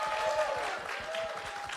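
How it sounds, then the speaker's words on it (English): A crowd at a TwitchCon 2025 panel session applauds the panelists in a short, full burst of clapping from many people in a large hall. Some faint low thumps sit beneath the claps. "Can we get a round of applause for our amazing panelists?"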